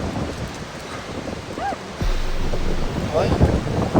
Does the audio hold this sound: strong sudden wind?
yes